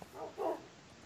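A dog in the blocky Minecraft-style game IndoCraft gives two short, soft barks close by, alone with no talk.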